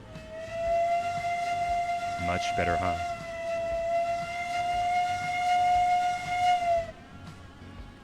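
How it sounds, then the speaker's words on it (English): Steam locomotive whistle in the game Railroads Online, a long steady sustained blast lasting several seconds over low mechanical rumble, with a brief comment spoken over it. "we have water pressure, so try the whistle now"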